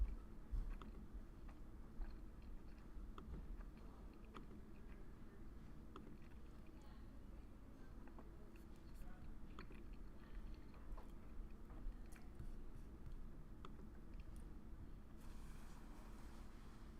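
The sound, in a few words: person chewing lunch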